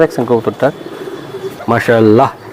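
Racing pigeons coo up close in a few throaty, rolling bursts with a short pause between them, while people talk nearby.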